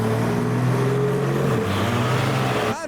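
A Porsche 992 Turbo pulls away from a car show, a steady loud engine drone with shifting pitch through nearly three seconds before cutting off abruptly.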